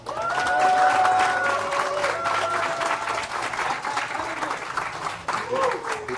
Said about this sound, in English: Pretty good ovation today too